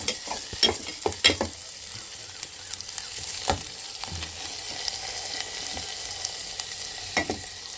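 Vegetables, including beetroot, cook in hot ghee in a pan, giving a steady soft sizzle under scattered stirring clicks and scrapes that hit harder near the start, with no talk.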